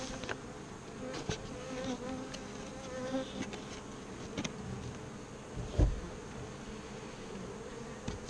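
Honey bees hum steadily around nucleus hives outdoors, a faint continuous buzz with a few brief louder passes and small clicks, and no talking.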